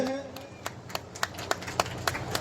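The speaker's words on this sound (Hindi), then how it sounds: "तालियों की गड़गड़ाहट" Scattered hand claps from an audience welcoming guests at a remembrance-day gathering, sparse and irregular, rising to a few sharper claps over a murmur of voices and a brief tone at the start.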